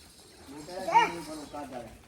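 A flock of sheep heading out bleats, with one clear bleat rising in the middle and softer calls around it, while someone talks nearby.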